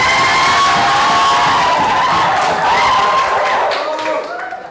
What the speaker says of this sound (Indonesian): Nah, tepuk tangan yang meriah untuk Reva.